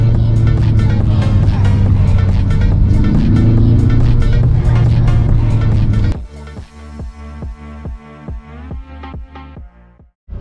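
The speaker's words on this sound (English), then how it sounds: "Sport drive mode activated. Wow, the 4-cylinder 2-liter engine is activated." A Tata Safari SUV with a 2-liter four-cylinder engine drives in sport mode, a loud steady engine drone with road noise for about six seconds, then drops to a quieter, rhythmic knocking hum.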